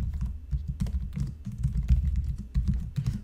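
Rapid, uneven clicking of keys on a computer keyboard, close and continuous, with brief pauses between bursts of typing.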